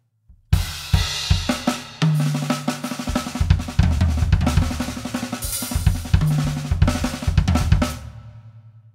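A drum groove played at an even, flat volume, kick, snare and cymbal hits all landing with similar force in a steady rhythm.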